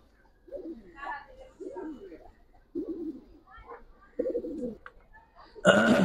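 Pigeons at a Bangladeshi pigeon seller's collection coo in repeated low, soft bursts, close by, with short gaps between calls and a brief rustle or flap at the end.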